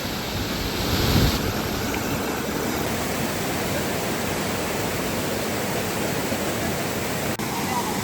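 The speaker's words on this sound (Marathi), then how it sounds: "आणि हा असा वॉटरफॉल आहे" Steady roar of a waterfall at a secluded spot near Hinjewadi, Pune, a dense, even rush of falling water filling the scene close by, with a brief swell near the start.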